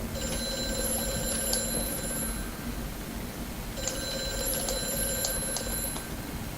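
Telephone ringing in Amnesia: A Machine for Pigs, two long electronic bursts separated by a pause, loud and clear against a low background hum.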